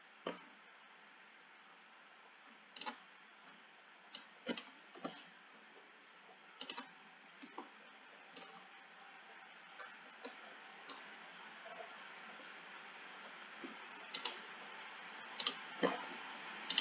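Sharp, quiet computer mouse clicks, scattered irregularly with some in quick pairs and triples, over a faint steady background hiss while working in Parasolid modelling software.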